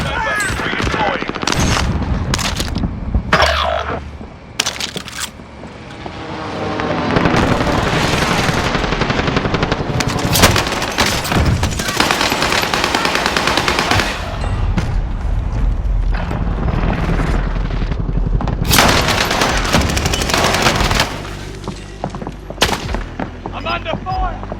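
Heavy gunfire in the Call of Duty Warzone battle royale, dense loud bursts of automatic rifle fire mixed with booming impacts, nearly continuous with a short lull early on.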